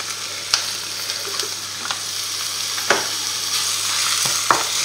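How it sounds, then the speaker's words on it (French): Minced meat sizzling in a hot pan with a bright, continuous hiss, broken by a few sharp clicks and scrapes of a utensil stirring, close and alone without talk. "Là, on rajoute notre viande hachée."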